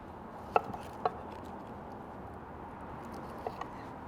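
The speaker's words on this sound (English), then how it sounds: "I'm gonna get these peeled and then slice them." Shallots being cut with a knife on a board, two distinct crisp knocks close together, then two softer taps after a pause, over a quiet room hum without speech.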